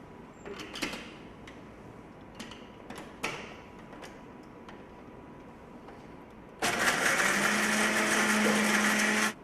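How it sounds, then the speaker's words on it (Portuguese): A blender grinds tamarind shells with distilled water, starting abruptly after several seconds of faint clicks and knocks and then roaring loudly and steadily until the end. "Vou colocar essa casca com a água no liquidificador,"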